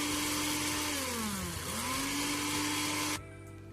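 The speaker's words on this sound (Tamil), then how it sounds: "இது எல்லாத்தையும் இப்போ நம்ம மிக்சியில் போட்டு லைட்டாக திரிச்சிக்கிட்டால் போதும்" Kitchen mixer grinder whirring loudly while grinding whole spices for pepper chicken gravy, a steady high motor drone whose pitch dips briefly midway, then cuts off near the end, leaving quiet room tone.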